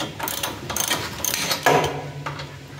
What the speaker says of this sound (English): Just back them out as far as you can with the ratchet.